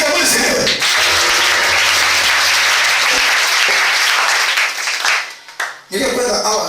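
A church congregation bursts into loud, sustained applause, many hands clapping together in a dense roar that briefly dips near the end before picking up again.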